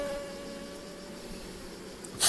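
Honeybees buzzing around an open hive while frames are lifted out during an inspection, a steady close drone with a sharp noisy burst at the end.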